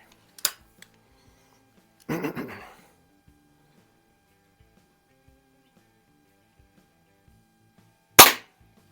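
An antique Eisenwerke Gem No. 13 air gun fires at a target in a garage, with three sharp isolated cracks spread across the stretch, the middle one followed by a brief rattling impact, all close against near silence.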